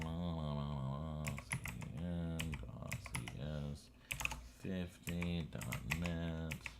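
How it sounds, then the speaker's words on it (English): Rapid clicking of computer keyboard keys comes in short bursts, close and fairly quiet, while someone talks over the typing throughout. "God, all that typing."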